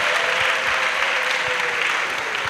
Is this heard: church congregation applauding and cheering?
yes